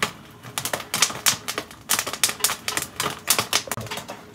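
Jiffy Pop popcorn popping on a stovetop, a dense rapid patter of sharp close pops and crackles in irregular bursts, with no talking.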